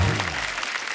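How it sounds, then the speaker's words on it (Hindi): Studio audience clapping to welcome guests on a Hindi talk show, a short, fading burst of applause heard at moderate distance. "जोरदार तालियां हमारे मेहमानों के लिए।"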